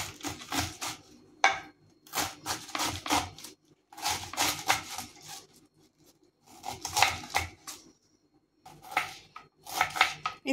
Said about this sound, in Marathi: आता हे सर्व भाज्या मी कापून घेते